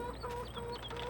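Chickens cluck in a farm setting in the video game Farming Simulator 22, a short run of soft, close clucks over a steady low background hum, with no talking.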